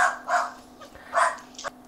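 Dogs barking indoors in a home kitchen, a few short sharp barks in quick succession at moderate distance, with no talk over them.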